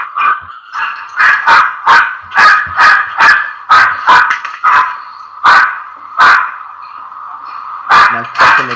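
A female dog barks repeatedly and loudly at close range, a rapid run of about a dozen sharp barks with brief gaps, trailing into a softer whine at the end.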